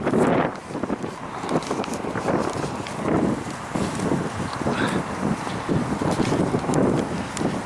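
Steady wind gusts buffet the microphone on a rail trail, a broad rushing roar that stays loud and constant throughout, with faint scuffs like footsteps underneath.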